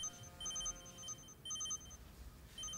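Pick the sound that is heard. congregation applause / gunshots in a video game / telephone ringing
telephone ringing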